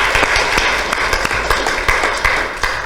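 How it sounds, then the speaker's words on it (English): An audience at a meeting claps in a brief round of applause, a steady patter of many hands close by, with no talking. "that deserves a round of applause"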